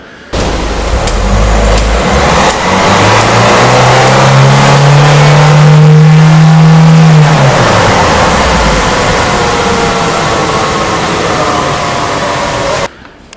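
A car engine runs and revs with one wheel raised on a jack, a loud steady mechanical drone that rises in pitch and settles, continuous throughout with no talk.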